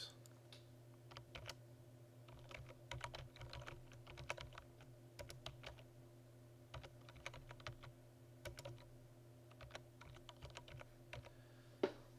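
Someone types on a computer keyboard. Quiet, irregular keystrokes tap in short bursts over a steady low hum, ending with a slightly louder final key press.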